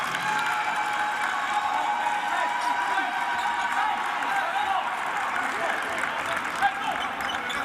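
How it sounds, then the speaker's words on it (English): Home crowd of OUAZ fans at an NAIA men's basketball game against Montana Tech, cheering and applauding steadily as a player leaves the court, a dense sustained roar with a commentator talking over it. "The OUAZ fans cheering on Alex Veely as he leaves the game"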